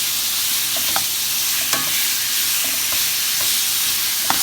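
Beef browns in a hot pan for a crockpot stew, making a continuous loud sizzle and hiss with scattered small pops and crackles throughout.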